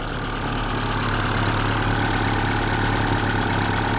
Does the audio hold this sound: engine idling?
yes